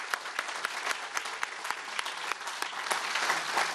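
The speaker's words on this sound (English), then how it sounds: "Please join me in giving them a round of applause." Audience applause at an outdoor groundbreaking ceremony for a new pump station and towpath trail on the Cuyahoga River, a steady patter of clapping that holds for nearly four seconds at moderate distance without any talk.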